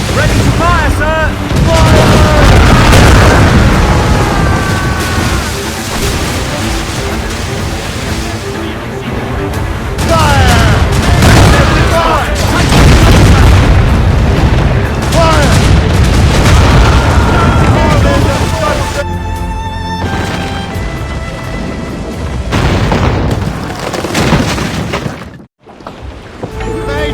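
Ship cannons firing in a naval battle in Assassin's Creed Rogue, loud repeated booming blasts and rolling explosions over a long stretch, with shouted crew voices and battle noise throughout.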